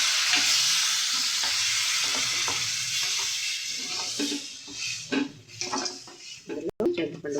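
Tamarind fish curry, made with chili, turmeric, garam masala and tomato puree, bubbles and sizzles loudly in a pot in a steady, hissing stream. Stirring and clinks from the pot break in near the end.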